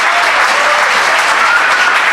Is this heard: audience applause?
yes